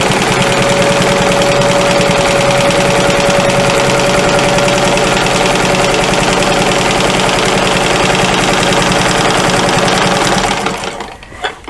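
A sewing machine stitches quilting lines across a fabric folder, a loud, rapid mechanical chatter running steadily for about ten seconds before stopping abruptly near the end.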